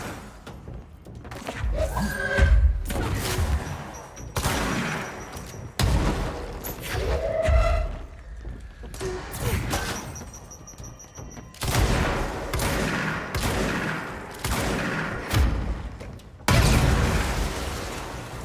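Bomb blasts and heavy booms from the video game Control, several loud bursts scattered through a long stretch of combat noise, with sharp impacts and thuds in between.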